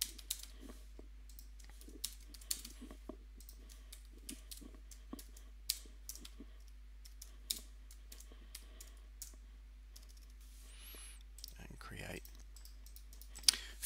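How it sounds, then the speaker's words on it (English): Faint, irregular keyboard taps and clicks scattered over quiet background hum, with a brief rustle near the end; no voice during the sequence. "I have to type these in manually"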